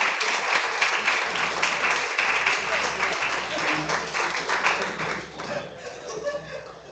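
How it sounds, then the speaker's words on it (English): A workshop audience applauds a professor, a close, even wash of clapping with light chuckles mixed in, tapering off toward the end. "Please give an applause to the professor."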